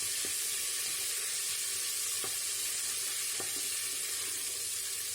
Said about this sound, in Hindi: अदरक और लहसुन का पेस्ट डालने के बाद हम इसकी मज़ीद भुनाई करेंगे थोड़ी सी।